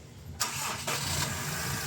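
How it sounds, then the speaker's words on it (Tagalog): A Honda Civic FD engine cranks and catches, then settles into a steady, fairly loud idle close by. "pa-start ko na itong makina"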